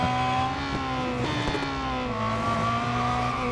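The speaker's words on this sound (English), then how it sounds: "Oh, skidding." A Ferrari in Real Racing 3, in an endurance GT race, holds a steady, droning engine note while its tires squeal in a long skid, with a few brief knocks midway.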